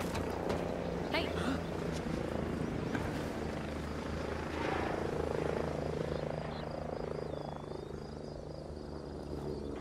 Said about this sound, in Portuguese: Tem um helicóptero aqui, capitão.